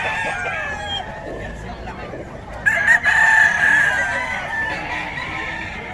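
Lemon Sweater gamefowl roosters at a poultry gathering in Bocaue crow loudly, one clear crow rising midway, over low clucking and background chatter of people talking nearby.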